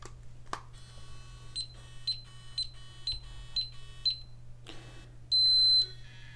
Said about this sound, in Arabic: زي ما انتم سمعتوا في صوت التنبيهات اللي جت في الاول ديت